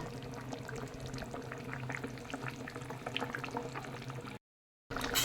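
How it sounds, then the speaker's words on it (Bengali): Fish curry with baan (eel) simmers in a pot, a close, steady bubbling and seething that runs without pause, then a brief dropout near the end before the bubbling returns. "এখন আরও পাঁচ মিনিট ফুটিয়ে নেব"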